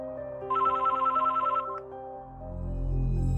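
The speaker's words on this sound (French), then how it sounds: "Là, le téléphone de la gendarmerie sonne." A telephone rings at a rural gendarmerie station, a bright electronic trill repeating for about a second over a low steady background hum.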